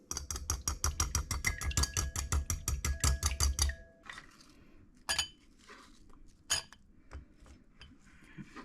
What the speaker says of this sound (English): back to whisking